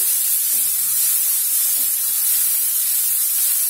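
Onion, garlic and chilies fry in a pan for a dry green pea (matar) dish, giving a steady, close sizzling hiss that runs unbroken with no talking.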